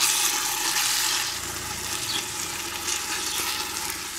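Food fries and sizzles in a pot on the grill, giving a loud, continuous hissing sizzle that stays close and steady throughout.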